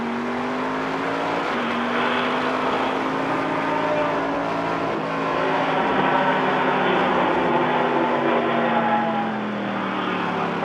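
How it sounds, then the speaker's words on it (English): A pack of race cars, among them a 1979 Porsche 935, accelerates together past the green flag at a vintage race reunion, a dense, moderately distant roar of engines with pitches rising and shifting as the field surges. "Cars are cresting the hill when they took the green flag at over 120 miles an hour."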